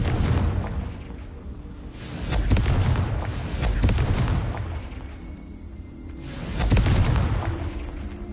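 A Confringo spell explosion in the Hogwarts Legacy video game: deep, rumbling booms that swell and fade in several waves, loud and close, with crackling bursts layered over the low roar.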